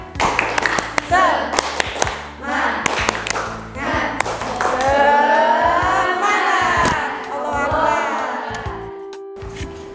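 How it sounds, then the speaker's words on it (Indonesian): A class of first-semester university students doing a rhythmic group clapping chant, with bursts of sharp patterned claps and thumps in the first half. Voices then rise together in a loud chanted cheer, and a steady electronic tone runs underneath near the end. "Ayo kita tepuk semangat dulu. Tepuk semangat."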